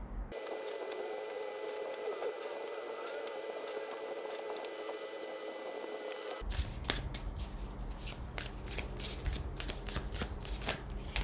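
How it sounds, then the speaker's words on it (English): Oracle cards from the Nocturna Oracle deck are shuffled by hand: soft papery riffling and patter that grows busier and louder in the second half, close to the microphone with no talking. "next I'll pull some cards from the Nocturna Oracle"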